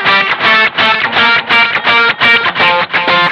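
Distorted electric guitar fitted with a Gruv Gear FretWrap string muter plays a steady run of short, tight chugs, each chord choked off quickly with no ringing between hits.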